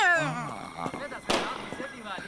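Firecrackers popping during a festive Diwali-style celebration, a few sharp bursts cutting through loud talk and shouting, with one prominent crack near the middle.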